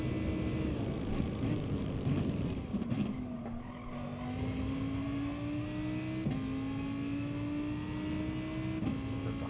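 A touring race car in Gran Turismo on the Sardegna or Dragon Trail circuit, its engine droning steadily and rising in pitch through the gears, with brief dips at the shifts and light tyre noise.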